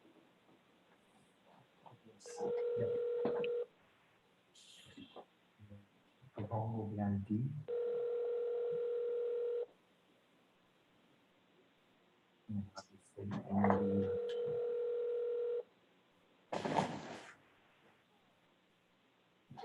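Telephone dialing followed by steady ringback tones, with two or three long sustained tone bursts separated by pauses, a few brief clicks and key beeps between them, and someone speaking briefly in the gaps.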